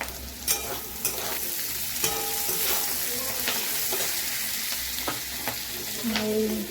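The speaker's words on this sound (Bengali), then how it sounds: "এগুলো ভেজে নেব। নুন দিলাম, কাঁচা লঙ্কা দিলাম," Fish sizzling in oil with salt and green chillies for chilli fish, a dense steady crackle with scattered stirring scrapes and light clinks throughout.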